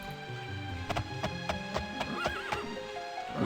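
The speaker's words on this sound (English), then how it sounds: "You pet the horse, it lowers its head, breathing slow and steady." A horse in the video game Daggerfall Unity neighs and whinnies in a close, clear series of calls, with rhythmic breathy pulses and hoof-like clops alongside.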